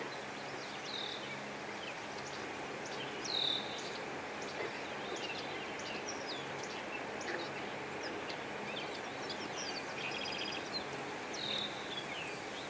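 Birds sing in a forest with short, high chirps repeating at intervals over a soft, steady bed of insect buzz and faint rustling, all fairly distant and quiet.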